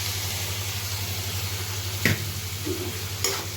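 Rice fried with vegetables and potato in a pan, a soft steady sizzle over a low electrical hum, broken by two sharp spatula clinks against the pan, no talking.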